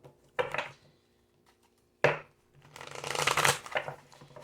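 Tarot cards being shuffled up close, a couple of quick riffles followed by a longer, louder rustling shuffle.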